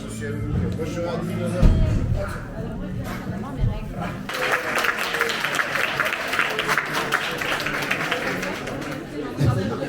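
Audience applause at a comedy show, first under murmuring crowd chatter and talk, then swelling into a fuller, sustained round of clapping for the second half.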